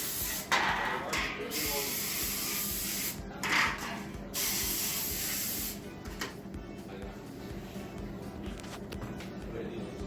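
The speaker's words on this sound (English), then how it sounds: "We're going to spray our pans with oil." Bursts of cooking oil spray hiss in short pulses onto baking pans at the start, then a steadier broadband hiss runs for several seconds, with background noise and faint voices.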